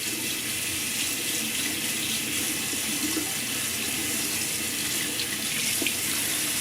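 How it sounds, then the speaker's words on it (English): A safety razor is rinsed under a running tap, making a steady, close, unbroken rush of water that holds at an even level throughout. "all you really need to do is, loosen the razor and rinse it"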